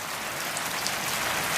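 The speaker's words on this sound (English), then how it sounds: "if it's just raining like it is right now" Good warm rain falling steadily, a dense soft hiss of drops on surfaces, continuous and fairly faint with no voices.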